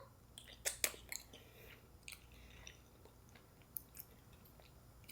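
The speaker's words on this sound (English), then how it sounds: "I also learned that it's okay to do a little bit of chewing." Soft, close-up chewing of fufu, moist squishy bites with a few sharper crunchy clicks early on, alone with no talking.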